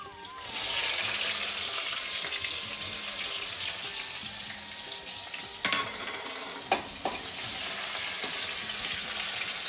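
Cumin seeds sizzle in hot oil in a home kitchen as the first step of a meat curry, a steady close frying hiss with a few brief clatters and stirring knocks partway through.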